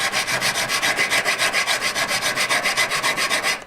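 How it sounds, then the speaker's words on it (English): A coarse hand file rasps across metal while one side of a V claw is worked straight. About two dozen quick, even back-and-forth strokes come close-up and loud, with no voices. "A coarse file, get one side"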